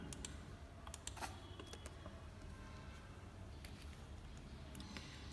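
Faint, steady clicking of computer keyboard keys with brief sharper taps in a quiet room, no voices.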